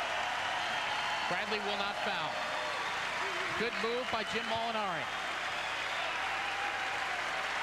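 A college basketball crowd at a Southern Illinois versus Bradley game roars steadily in the arena, with a dense sustained cheer beneath a play-by-play announcer talking over it and squeaking sneakers on the court.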